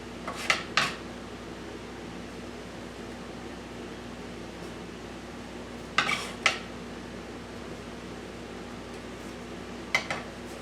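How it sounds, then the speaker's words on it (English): A metal biscuit cutter working through homemade two-ingredient biscuit dough gives a few brief, light clinks and taps in three small clusters, spaced seconds apart over a steady low room hum. "I'm just going to cut out my biscuits with a biscuit cutter"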